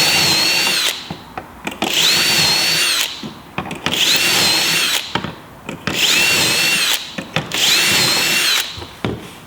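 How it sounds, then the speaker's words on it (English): Power drill boring pocket holes into wood through a jig for a children's bookcase: four loud, close bursts of high whine, each a second or two long, separated by short pauses. "now I can drill in the rest of these"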